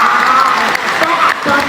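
Comedy-show audience in Cotonou breaks into dense, steady applause that fills the whole moment at close range with only slight dips, crowd noise mixed in.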